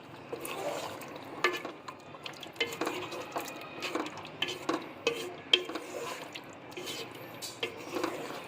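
Soft, spiced, cooked potatoes being gently stirred with crushed kasuri methi in a pan, making close, irregular wet clicks and scrapes over a faint sizzle.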